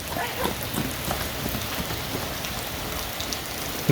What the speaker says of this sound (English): it keeps raining like this for a good hour